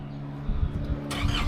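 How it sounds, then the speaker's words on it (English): A 4x4 truck engine idles with a steady low rumble, then rises with a louder, harsher burst after about a second, close and continuous with no talk. "So we got the truck out today."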